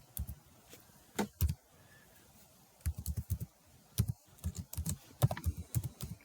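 Keys clatter on a computer keyboard as a card number is typed in to log in, quiet irregular bursts of taps with short pauses between them, no voice.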